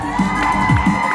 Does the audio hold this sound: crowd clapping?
yes